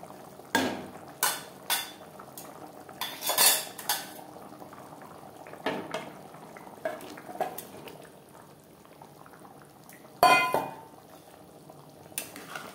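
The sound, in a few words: fried eggs added to curry gravy in a pot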